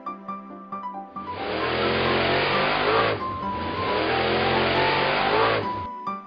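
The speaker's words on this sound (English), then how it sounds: "Monster racing car." Monster racing car engine revving loud and close, a sustained roar with a brief dip mid-way before surging again, then cutting off near the end; short musical tones at the start and finish.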